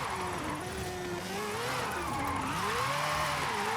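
Car engine in Forza Horizon 5 held high and wavering through a long drift, pitch rising and dipping as the car slides, steady and close with no talk.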